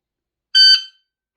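A single short electronic start beep from a ProTimer BT shot timer, a bright tonal tone lasting about a third of a second in otherwise silent surroundings.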